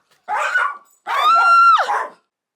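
A pet dog at home gives two loud, close barks in quick succession, the second drawn out into a whining yowl that bends down at the end.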